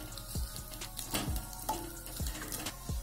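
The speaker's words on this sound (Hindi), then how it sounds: "इसे हम बहुत ज्यादा नहीं भूनेंगे क्योंकि होममेड मावा है।" Homemade mawa lightly roasting in a pan for a Diwali sweet, a soft sizzle with recurring scraping stirs, steady and close with no voices.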